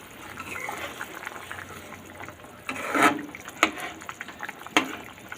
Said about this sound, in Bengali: এখন এর মধ্যে আমি গোটা কাঁচা লঙ্কাগুলো দিয়ে দেবো আর এক এক করে সব মাছগুলো দিয়ে